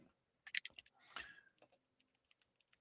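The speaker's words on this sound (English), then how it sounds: "My terrible spelling as I'm typing furiously." Quick bursts of computer-keyboard typing, close and crisp clicks in a rapid run that trails off into a few sparse taps.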